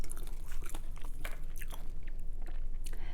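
Crunchy romaine lettuce chewed close to the mic in a mukbang eating session, with repeated crisp bites and wet crunching in an uneven rhythm, no talking.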